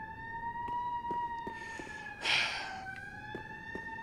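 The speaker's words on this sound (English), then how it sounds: "I hate these sirens" Sirens wail in Dark Souls 3, a steady pair of loud rising-and-falling tones held throughout with sharp clicks over them and a brief burst of noise midway.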